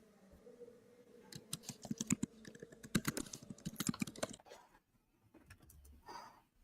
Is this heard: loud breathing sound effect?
no